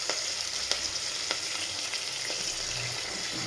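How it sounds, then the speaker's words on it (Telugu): Ginger and garlic frying in a pan for okra curry, a dense steady sizzle with a few faint utensil taps as it is stirred, close and even throughout. "ఇప్పుడు అల్లం ఎల్లిగడ్డ వేసుకోవాలి, కలుపుకోవాలి మంచిగా"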